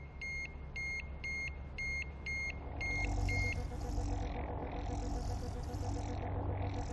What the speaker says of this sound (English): This is your wake-up alarm.